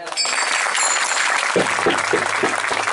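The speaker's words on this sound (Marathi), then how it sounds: "सर्वांनी टाळकऱ्यांकरता टाळ्या वाजवा." An audience at a Marathi devotional kirtan claps together in steady, dense applause, and a voice rises faintly beneath the clapping in the second half.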